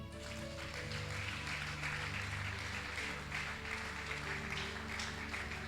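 A congregation at a French-language church service applauds with steady, continuous clapping throughout, under a sustained musical hum.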